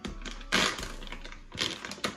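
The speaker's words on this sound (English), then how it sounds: "I'm gonna go ahead in and rip this open" A knife slices and rips through a large cardboard shoe delivery box, giving a few sharp, close tearing and scraping bursts separated by short pauses, with no talking.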